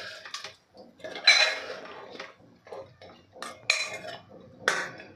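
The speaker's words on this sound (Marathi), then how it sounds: "पुन्हा एकदा आपल्याला हे मिक्स करून घ्यायचं आहे." A metal spoon scrapes and clinks against a pressure cooker pot while chicken is stirred with a little water, in irregular bursts of clanks separated by short quiet gaps, close up and without talk.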